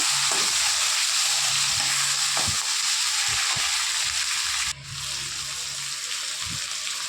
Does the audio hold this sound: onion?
yes